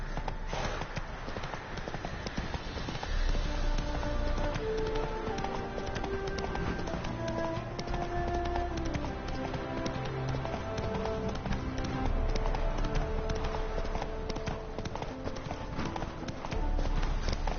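Horse hooves galloping in The Witcher video game, a fast continuous clip-clop rhythm over a constant loud bed of game music and ambience for the whole stretch.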